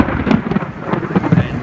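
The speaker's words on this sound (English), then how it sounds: "she's just coming down. Thunder, lightning," Thunder rumbles through a rainy thunderstorm, a low rolling boom over the steady patter of rain, close and loud with no talk.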